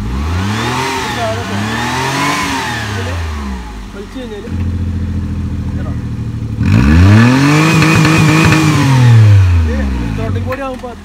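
Maruti 800 engine fitted with a low-budget throttle body, revving in rising and falling surges, then settling to a steady idle before a louder, deeper rev as the throttle opens about three-quarters; close and loud, no talk.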